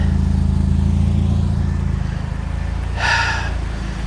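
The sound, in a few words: supercharged Chevy Cobalt SS engine running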